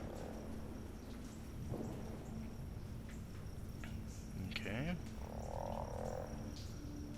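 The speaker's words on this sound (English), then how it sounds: "We got this weird croaking sound." Low, throaty croaks from the video game Antichamber sound a few times over a steady background drone and faint chirps, without any talking.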